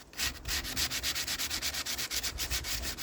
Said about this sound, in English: what I was doing is sanding the sinew part